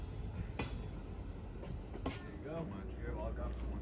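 Steady rumble and faint rail clatter inside a Via Rail Renaissance coach-class car rolling along, with a few soft knocks and voices talking in the cabin.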